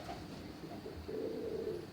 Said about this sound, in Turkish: Bembeyaz süt gibi çok güzel bir kuş.